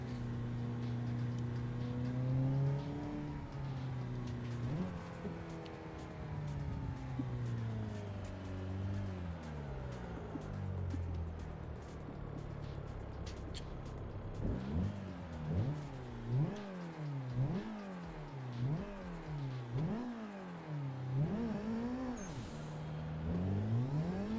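Video game car drifting behind a shipping container, the engine droning and revving in repeated rising and falling sweeps as the handbrake kicks the car sideways, loud and continuous with no talk.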